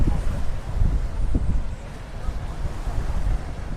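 Sea waves wash onto a sandy beach at Marmaris, a steady low rumble of surf mixed with wind buffeting the microphone, with no voices.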